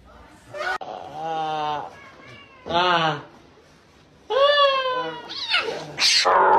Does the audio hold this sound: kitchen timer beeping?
no